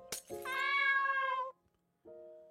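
Frightened cats meowing: a sharp high cry, then a long loud wailing meow lasting about a second, followed after a short pause by another meow starting at the end, close and alone with no talk.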